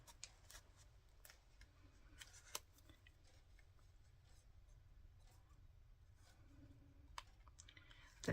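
Scissors snipping paper for an art journal page, a series of quiet, irregular crisp clicks and snips over faint background rustling, close by.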